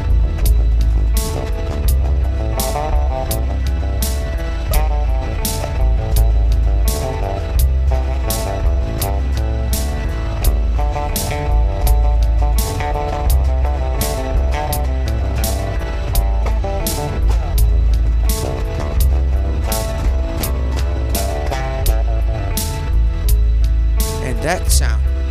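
Fusion bass played with a hard right hand and intricate left hand on a Gibson bass through a Marshall Super Bass amp, a loud, busy stream of punchy low notes running continuously for the whole stretch.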